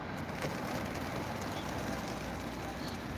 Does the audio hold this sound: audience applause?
no